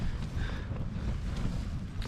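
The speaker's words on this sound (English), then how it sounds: "I'm really hoping that these are just some strong gusts coming through and that it'll die down." Strong wind gusts buffet a cliffside campsite above the ocean during a storm, a constant low roaring rumble battering the microphone throughout.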